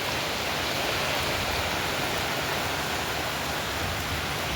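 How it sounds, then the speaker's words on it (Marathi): Heavy rain pours down steadily in a dense, unbroken roar of broadband hiss with no pauses, loud and close throughout with no voices. "पाऊस तर लय जोरात यायला लागला आता"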